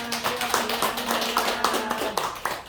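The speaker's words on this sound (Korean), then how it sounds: "박수로서 영광을 올려드리겠습니다" Church congregation clapping during a worship service, a steady patter of hand claps with organ or keyboard tones sustained underneath, moderately near.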